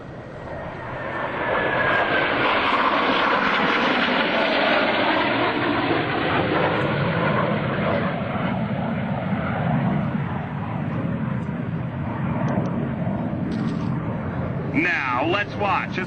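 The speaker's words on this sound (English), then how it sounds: "Blue Angels 5 and 6 are approaching the flight line in a line abreast formation at 400 miles per hour" US Navy Blue Angels jets approaching in line abreast formation at about 400 mph during an airshow, a loud sustained roar that swells and lingers for many seconds as they pass, with an announcer talking over it.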